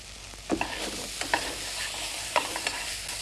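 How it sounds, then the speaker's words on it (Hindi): Finely chopped, peeled apple frying in a pan, with a low steady sizzle and several distinct spoon taps and scrapes as it is stirred. No one speaks. "सेब थोड़ा सा भूनना है हमने इसके साथ"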